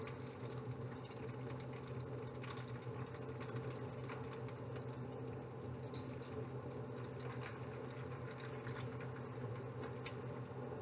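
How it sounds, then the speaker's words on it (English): Canned chicken broth poured into a turkey roasting pan makes a steady, soft liquid rush and splash, continuous and fairly quiet throughout. "I'm just going to add that can of chicken broth to that instead of using water"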